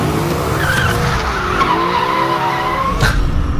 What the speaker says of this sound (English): The car's going sideways.